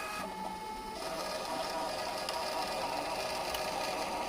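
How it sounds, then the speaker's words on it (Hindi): An all-in-one thermal printer runs a test receipt with a steady, close buzzing whir and faint mechanical ticking that holds evenly throughout. "तो चलिए यहाँ पे प्रिंट देते हैं"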